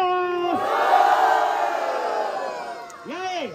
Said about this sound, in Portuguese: Barulhos pra quem gostou das rimas do Cairo